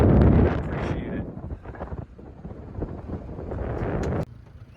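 A light breeze in Monument Valley buffets the microphone in uneven gusts, a rumbling whoosh that swells and dips, then drops away abruptly near the end.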